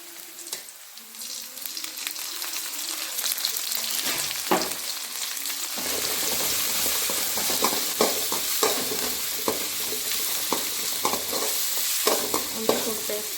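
Ginger garlic paste stirred and frying in a pan for country chicken curry, a steady close sizzle with repeated scraping stir strokes and occasional knocks, no talk.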